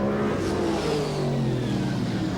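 Race cars roar and accelerate away at the Newcastle Motordrome speedway, their engines rising and then falling in pitch as they pass close and loud, with no voices over them.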